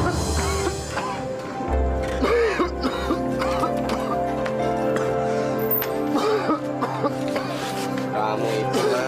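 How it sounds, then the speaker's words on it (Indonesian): A person coughs repeatedly in harsh bursts, with some throat clearing, over soft background music. "Dari kemarin kamu batuk terus."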